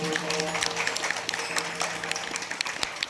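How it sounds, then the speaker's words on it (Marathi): An audience claps loudly at a Marathi memorial gathering for a woman's death anniversary, dense continuous applause from a crowd close at hand, sustained at an even level throughout without a break. "आई वडिलांच्या नावाने जोराची टाळी वाजवा"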